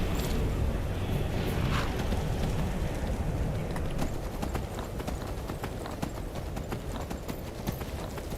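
Horse hooves gallop in Skyrim, a steady stream of fast thudding beats under a dense, loud game soundscape that carries on throughout.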